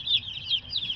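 Young laying hen chicks peep in a quick run of high, thin chirps, close and fairly loud, with no talking over them.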